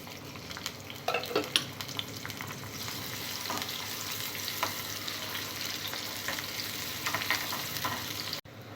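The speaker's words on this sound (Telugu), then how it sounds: "ఆయిల్ వేడిన తర్వాత లవంగాలు, దాల్చిన చెక్క, ఉల్లిపాయ ముక్కలు వేసుకోవాలి." Cloves, cinnamon and onion pieces frying in hot oil for a cherry tomato masala curry, a steady close sizzle with occasional crackles and stirring clatters throughout, cutting off abruptly near the end.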